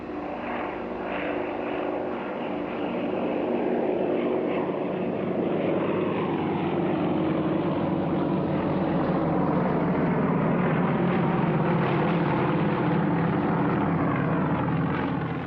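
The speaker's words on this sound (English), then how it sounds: "the only team in Russia operating with the Yak-52 and Yak-54 flying together" Yak-52 and Yak-54 propeller aerobatic aircraft fly together at a Russian air force anniversary airshow, their engines giving a loud, sustained droning roar that swells and shifts in pitch as they pass overhead.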